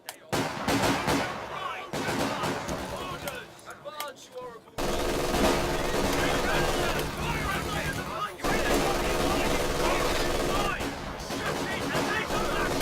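Machine gun fire and wider battle noise rattle through a Company of Heroes 2 strategy game match, loud and nearly continuous with short dips, a voice mixed in among the shots.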